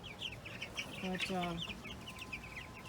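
Backyard chickens cluck near the mic in short, rhythmic bursts, with a clearer call in the middle, while someone talks quietly under them.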